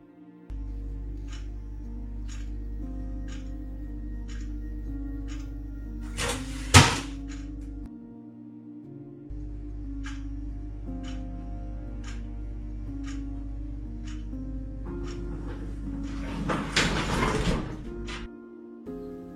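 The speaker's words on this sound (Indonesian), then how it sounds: "Yamakyu kembali menangkap gambar lain dari pintu kamar mandi yang menutup secara otomatis." A bathroom door closes on its own in a quiet home at night, giving a single sharp bump midway through against a steady low hum, followed later by a brief rustling swell.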